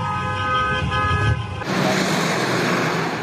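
A car horn sounds in a sustained honk, then cuts off and gives way to a loud rushing of nearby traffic.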